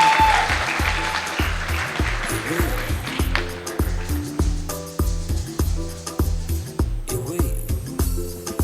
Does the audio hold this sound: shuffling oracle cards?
no